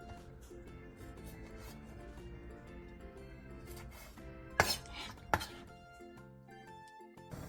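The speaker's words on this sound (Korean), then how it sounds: "오징어 한 마리에 몸통을 동그랗게 잘라준 뒤 다리는 먹기 좋은 크기로 잘라주세요" A squid is sliced into rings with a kitchen knife, leaving soft tapping and clinking of the blade on the board and dishes, with two sharper knocks near the end of a quiet kitchen scene.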